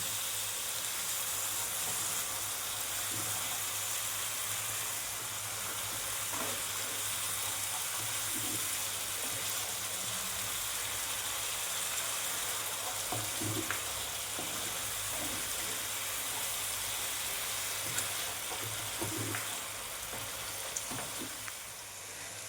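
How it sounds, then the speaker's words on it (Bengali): Steady, broadband sizzling of water added to hot oil in a pan for a Bengali pea curry, continuous and loud throughout, with occasional soft pops and stirring clicks. "যে দেখো আমার তেল ছেড়ে দিয়েছে এবার এখানে জলটা অ্যাড করবো"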